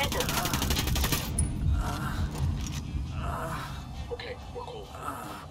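Bursts of automatic gunfire in the video game Ghost Recon Wildlands, rattling loudly early on and tapering into scattered distant shots, with people talking over it.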